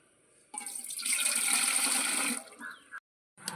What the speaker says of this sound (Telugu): దీంతో ఆరు లోటాల వాటర్ పోసుకోవాలి